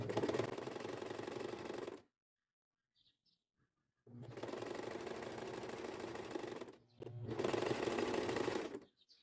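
A sewing machine stitches a seam in two long loud runs and a shorter final burst, with a pause of near silence between the first two.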